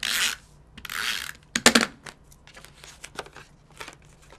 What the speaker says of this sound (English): I'm going to use the mono adhesive for this.